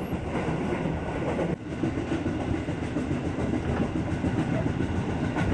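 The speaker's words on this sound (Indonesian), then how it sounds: "sekarang kita ada di KRL komuter lain tujuan Bogor dengan 8 kereta" Interior rumble of a KRL electric commuter train to Bogor in motion at night, steady and loud with rolling wheel noise and a brief dip partway through.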